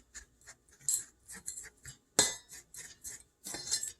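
Butter, flour and sugar being mixed in a bowl, with a utensil scraping and clinking against the bowl in a string of short, irregular taps and scrapes, close up and fairly quiet with no talking.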